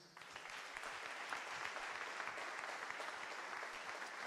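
A church congregation applauds steadily, a dense, even wash of clapping that holds at a constant level from start to finish.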